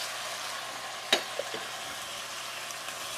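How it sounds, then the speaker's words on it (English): Kidney beans, garbanzo beans and tomatoes drop into hot oil for a Jamaican stew, a quiet continuous frying hiss broken by one sharp clack and a couple of softer knocks. "in goes the kidney beans, the garbanzo beans, the tomatoes,"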